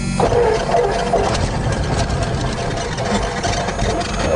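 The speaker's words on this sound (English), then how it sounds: "we'll go ahead and turn the key to start the engine" A light airplane engine turns over and runs after a key start, a steady, loud, dense mechanical drone that carries on without a break and without any voices.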